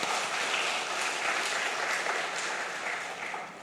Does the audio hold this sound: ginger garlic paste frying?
no